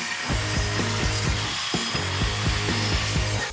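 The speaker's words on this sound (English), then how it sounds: "so we're going to cut these down on a miter saw." Miter saw cutting cedar fence boards for a simple bat house, with steady, evenly spaced rhythmic chops and rasps running through the cut, close and alone without talk.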